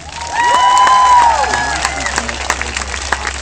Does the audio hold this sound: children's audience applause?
yes